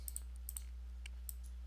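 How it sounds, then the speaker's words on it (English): Sharp computer mouse clicks, some in quick pairs, spaced irregularly over a low steady hum, close to the microphone with no talking. "my mouse clicks are a little too loud"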